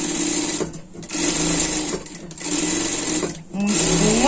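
A sewing machine stitches a seam on a pet sling bag, running in steady whirring bursts with short pauses between them.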